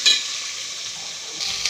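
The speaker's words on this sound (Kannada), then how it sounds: "ಅದಕ್ಕೆ ಈರುಳ್ಳಿ ಮತ್ತು ಕ್ಯಾಪ್ಸಿಕಮ್ಮನ್ನು ಹಾಕಿಕೊಂಡು ಕೆಂಪಾಗಿ ಹುರಿಯಿರಿ" Onions and capsicum frying in a pan, a steady loud hiss and sizzle throughout with a brief stir at the start and end, close up, no voices.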